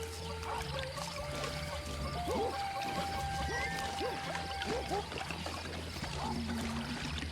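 Water trickles and pours steadily as it is collected in the Ancestors video game, the soft flow mixed with chirping outdoor ambience at moderate volume.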